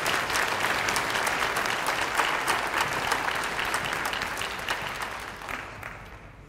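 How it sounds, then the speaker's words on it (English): Steady, full applause fills the room for students at a school career and technical education awards ceremony, many hands clapping evenly and then slowly tapering near the end. "Let's give these students a round of applause."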